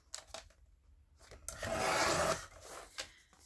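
A file folder flap being trimmed with a paper trimmer: a few light taps, then a steady scraping slide of the blade across cardstock lasting about a second, followed by softer rustling.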